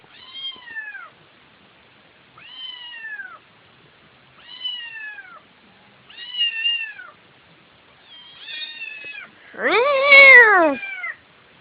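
An angry cat meows six times at roughly two-second intervals, drawn-out and strained, with the last one swelling into a loud, harsh yowl. Close and clear against silence.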